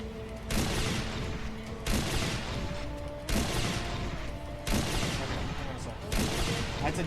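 Artillery fire in the EDF 2025 video game, five loud, heavy blasts at a steady interval, each followed by a long rumbling roar, with voices talking underneath.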